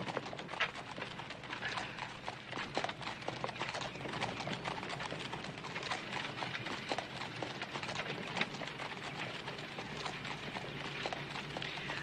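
A horse-drawn wagon rolling along, with steady, fairly quiet clip-clopping hooves repeating throughout and a continuous rumble of wheels beneath.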